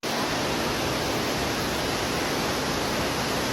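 A waterfall on the Appalachian Trail roars as a steady, dense rush of falling water, loud and unbroken for the whole stretch, with no voices over it.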